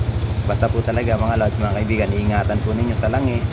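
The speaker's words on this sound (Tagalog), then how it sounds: "Tapos okay na okay pa rin po yung tunog ng makina" Yamaha Sniper 155R motorcycle idling close by, a fast, even low-pitched engine pulse running steadily beneath someone talking over it.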